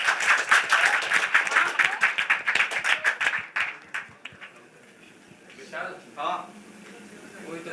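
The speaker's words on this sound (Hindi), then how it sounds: "जोरदार तालियां हो जाए इनके लिए।" Audience applause at a TV serial launch event, a loud burst of rhythmic clapping that tapers off after a few seconds, followed by a voice speaking over a quieter room.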